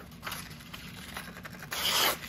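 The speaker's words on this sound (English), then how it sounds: "It's all about persistence with freehand sharpening." A REX-45 steel knife blade being freehand sharpened on a diamond plate gives short, close rubbing rasps in quick strokes, ending in one longer, louder pass.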